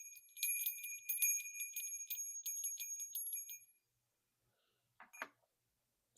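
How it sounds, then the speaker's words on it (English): Small bells ring in quick, bright clusters for several seconds, then fall silent before one faint chime sounds near the end. "So ringing bells."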